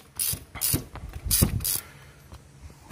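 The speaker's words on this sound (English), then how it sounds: "regular old 5/8 spark plug socket on a ratchet here" A ratchet with a 5/8 spark plug socket loosening spark plugs on a 2006 Chevrolet Colorado: three or four short, close clicking ratchet strokes, each a crisp burst of pawl clicks, then quieter handling.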